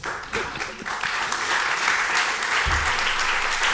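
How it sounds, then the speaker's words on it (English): Sustained audience applause at a summit talk on dance, identity and freedom in Paris, a dense, steady wash of clapping from a large crowd holding at even loudness throughout, with no voices over it. "Thank you for the applause."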